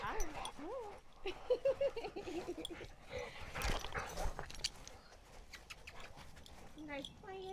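Several farm dogs play close by, letting out quick yips, whimpers and playful whines in bursts, with a voice speaking among them.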